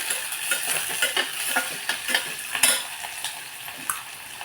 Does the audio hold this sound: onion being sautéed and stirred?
yes